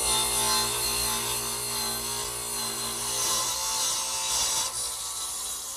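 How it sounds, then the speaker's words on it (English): A radial arm saw set to about a 40¼ degree angle cuts across wooden side pieces, giving a steady, loud, continuous whine and rasp of the blade in the wood that holds throughout, with no talking. "Now I'm ready to cut these side pieces, actually cut the angle on the side pieces, which I'll do over here on the radial arm saw"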